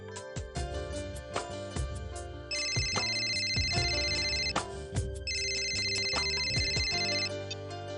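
A phone ringtone playing a bright, repeating electronic melody in a home, steady and fairly loud with short pauses between phrases.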